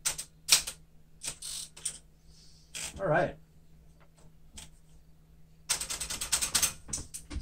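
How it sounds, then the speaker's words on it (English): Bursts of sharp mechanical keystrikes from a 1975 Smith-Corona Galaxie Twelve typewriter in excellent condition, close and crisp, with a carriage return in the middle and a brief spoken remark. "So we've got a finished typing sample for this 1975 Galaxie 12 typewriter in excellent condition"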